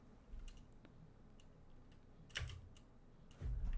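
Keys clack on a computer keyboard in short scattered bursts, faint and close, with a few louder taps against a quiet background hum.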